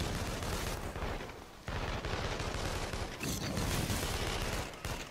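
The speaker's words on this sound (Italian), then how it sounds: "Anche se sento degli spari, ma chi sarà mai?" Dense, continuous gunfire rattles loudly throughout the game inFAMOUS Second Son, rapid bursts blending into a harsh, crackling barrage with brief dips.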